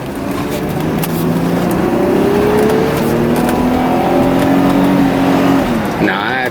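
An Audi 80 Cabriolet B4 accelerates hard on a road near a bridge, heard from inside the car as a loud, rising engine drone that climbs steadily through the gears before easing off at the end.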